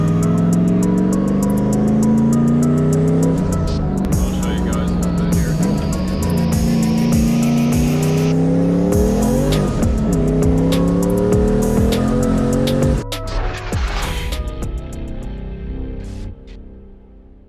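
A turbocharged New Edge Ford Mustang engine drones and revs steadily at close range on a sunset drive, pitch rising and falling through gear changes, then easing off and fading toward the end.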